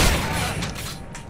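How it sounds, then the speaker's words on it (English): Explosions boom in the Call of Duty Modern Warfare 3 video game, a loud, dense blast with rumbling low end that fades over about a second. "Random explosions are just frightening."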